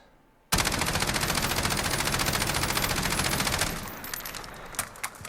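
An IWI Tavor TAR-21 rifle in Call of Duty Modern Warfare fires one loud, rapid, unbroken automatic burst lasting about three seconds, then trails off into a few scattered clicks and thuds.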